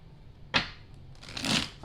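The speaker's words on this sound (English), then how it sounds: "feel like I need to shuffle these again." Tarot cards get a quick, close shuffle: a sharp riffle snap, then a short burst of soft flicking and sliding.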